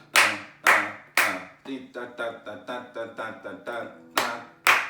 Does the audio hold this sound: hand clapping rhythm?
yes